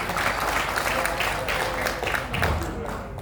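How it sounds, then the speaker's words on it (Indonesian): A meeting audience at a plenary session of the Banjarbaru city election commission applauds steadily, a dense wash of many hands clapping at close range for a few seconds, with a voice faintly underneath. "Aplaus buat kita semua."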